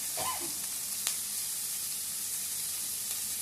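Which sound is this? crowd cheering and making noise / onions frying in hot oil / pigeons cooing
onions frying in hot oil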